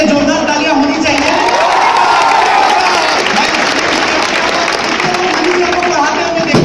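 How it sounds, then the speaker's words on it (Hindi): Loud, dense crowd applause in a town hall in Katihar, continuous clapping with cheering and shouting voices layered throughout, staying at full strength across the stretch. "सर के लिए जोरदार तालियां होनी चाहिए।"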